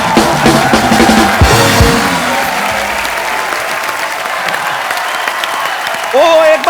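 A studio audience on a comedy talk show breaks into loud applause that holds steady for several seconds, with a voice cutting across the dense clapping.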